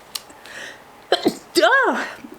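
A single close sneeze, set off by a strong lemon-scented shampoo, follows a few small breathy sounds.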